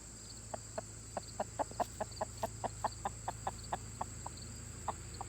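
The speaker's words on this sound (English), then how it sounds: "there's probably about 10, 12 chickens" Chickens on a free-range homestead, about ten or twelve birds, cluck in a steady rhythmic series of short clucks over a constant low hum, moderately close and alone without talk.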